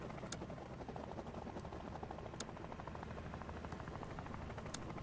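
Steady, droning helicopter rotor hum in the tactical video game Door Kickers 2, faint and continuous with a few brief sharp ticks over it and no talk.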